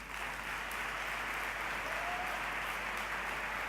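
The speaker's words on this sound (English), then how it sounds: "I would like to ask you all to give a huge round of applause to Vicente Montes" Steady, dense round of applause from a conference audience, sustained and even throughout with no speech over it.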